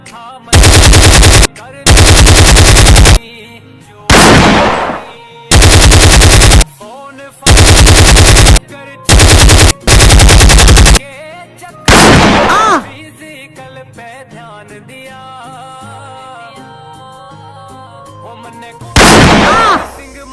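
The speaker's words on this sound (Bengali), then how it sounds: "তুই এদিকে গিয়ে ফায়ার কর, আমি এদিকে গিয়ে করি" Rapid machine-gun fire rips out in several loud bursts of a second or so each, with a couple of single booming shots and quieter gaps between, very close and dominant.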